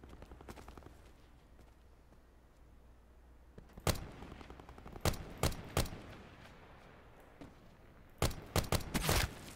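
AK rifle gunfire in Black Ops 4 Blackout, heard as a few separate sharp shots followed by a tight burst of several rapid cracks later on, all over a quiet ambient background.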